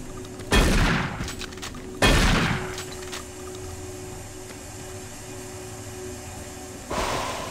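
Shotgun fire in Doom 3: The Lost Mission, three heavy, booming shots spaced a second or several apart, each with a sharp crack and a decaying rumble over a low mechanical hum.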